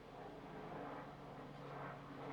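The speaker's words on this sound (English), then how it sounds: "Got a helicopter going over." A helicopter passes overhead somewhere outdoors, heard as a steady, fairly faint low drone and rotor rumble that holds throughout without clear approach or fade.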